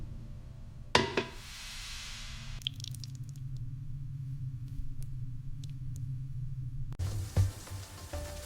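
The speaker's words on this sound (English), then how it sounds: "Pour the red chile sauce over the beef." Red chile sauce poured over beef for birria, with onions, garlic, bay leaves and beef broth, giving a soft wet squishing, dripping pour under a low steady hum, with a few knocks at the start and near the end.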